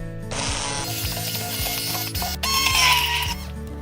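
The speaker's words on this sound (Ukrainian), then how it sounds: "Знімаємо з вогню та збиваємо блендером у ніжне, як дитяча щічка пюре." A blender whirs loudly and steadily through cooked zucchini caviar, pureeing it smooth, with a higher grinding pitch in the second half and no voices over it.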